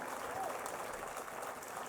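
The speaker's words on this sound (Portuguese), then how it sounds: "dê um aplauso a Jesus por isso, querido." A church congregation applauds during a worship service, a soft, steady patter of clapping that holds at a low level for the whole short stretch, with a voice faintly underneath.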